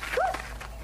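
A small dog gives a short, moderately loud yelp or bark, a single bright call with nothing else over it.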